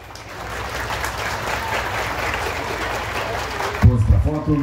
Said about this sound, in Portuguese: Aplausos, público presente.